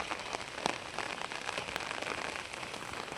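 Heavy rain falls without letup, a thick even wash of noise with occasional louder drops splashing nearby.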